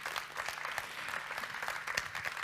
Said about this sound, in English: Can we have a round of applause for Eero?